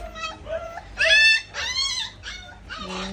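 A puppy whimpers and yips close by in a series of high, wavering cries and short squeals, several distinct calls in a row, heard during a DIY car dashboard job.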